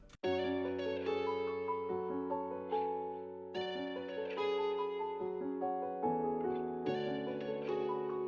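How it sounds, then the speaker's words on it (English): A sustained synth-string phrase moves through slow chord changes, with a washy reverb tail blurring each note into the next. "let's add some more reverb on it"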